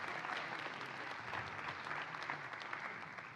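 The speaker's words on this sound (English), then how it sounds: "A big round of applause for Professor Chambers." An audience at a university awards ceremony gives an honoree a big round of applause, with full, sustained clapping from many hands that stays loud throughout and tapers only slightly at the end.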